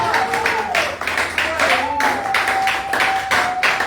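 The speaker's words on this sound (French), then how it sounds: "Acclamons très très fort" Clapping from a church assembly congregation, steady broadband pulses under a sustained singing tone, fairly loud and continuous throughout.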